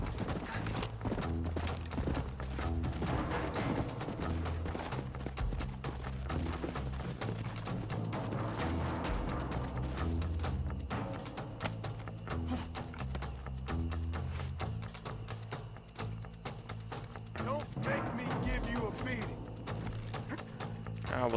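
Steady clip-clop of horse hooves from Red Dead Redemption runs throughout, an even trotting rhythm layered over a dense, continuous game soundtrack with occasional faint voices.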